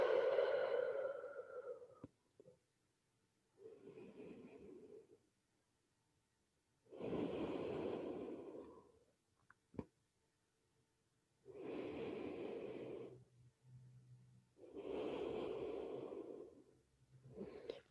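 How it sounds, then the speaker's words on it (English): Slow breathing during yoga crocodile pose, lying face down with the belly pressing into the mat: five or six long, soft, airy breaths, close and quiet, evenly spaced with silent pauses between them. "just take a couple of breaths here in crocodile"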